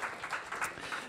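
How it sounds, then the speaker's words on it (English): Brief, faint round of audience applause for Bob Brown in a lecture hall at a science talk, a soft patter of clapping hands from a distance. "Round of applause for Bob Brown"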